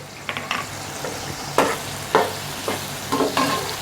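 Onions with cinnamon sticks, black cardamom, black peppercorns and cloves frying in oil for white yakhni pulao, a steady sizzle punctuated by repeated close scraping stirs of a spoon against the pot.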